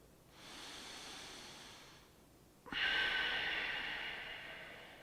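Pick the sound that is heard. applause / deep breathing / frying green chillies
deep breathing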